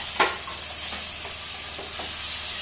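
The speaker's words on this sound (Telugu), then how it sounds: "ఈ విధంగా ఆనియన్ వేగించే వరకు మనం వెయిట్ చేయాలి ఫ్రెండ్స్" Onions frying in a pan for a mutton curry, a faint steady sizzle with a few soft scraping stirs of a ladle scattered across it, no talking.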